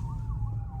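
An ambulance siren wails on the road in traffic with a steady, rising and falling tone, loud and close over low engine rumble.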